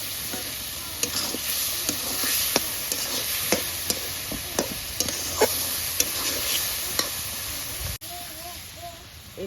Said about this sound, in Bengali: হলুদ, পরিমাণ মতন হলুদ দিলাম, দিয়ে একটু কষিয়ে নিই।